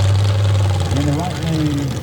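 A 1993 Ford F-150 pulling truck with a 632 cubic inch Ford engine rumbles deep and loud at a Pros and Superstocks pull in Steelville, with an announcer talking over the engine.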